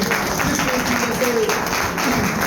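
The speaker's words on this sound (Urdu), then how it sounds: "زوردار تالیاں اس کے لیے" Applause from a congregation at a sermon, loud and sustained throughout, with a voice carrying over the clapping.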